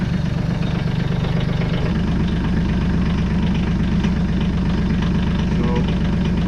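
A diesel tractor engine idles with a steady, throbbing low rumble and rapid rhythmic knocking, continuous and close throughout.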